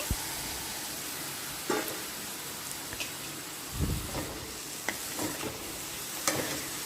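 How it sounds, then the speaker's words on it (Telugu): Brinjal pieces tumble into a pan of fried onions for a simple brinjal and tomato curry, giving a soft steady sizzle broken by a few sharp scraping stirs and clatters, close by with no talking. "ఇప్పుడు కోసి పెట్టుకున్న వంకాయ ముక్కలు కూడా వేస్తున్నానండి"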